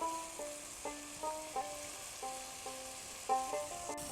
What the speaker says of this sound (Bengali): মশলাটাকে ভালো করে কষিয়ে নিয়েছি মশলা থেকে তেল ছেড়ে দিয়েছে এবারে দিয়ে দিচ্ছি ভেজে রাখা আলুগুলো